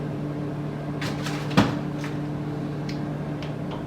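A freezer door closing with a single dull thump midway, preceded and followed by soft rustling over a steady appliance hum.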